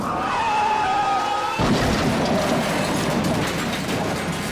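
Racing car in an F1 video game skidding and slamming into a wall: a tonal engine whine gives way at mid-clip to a loud broadband scraping crash and continued grinding noise, with no talking.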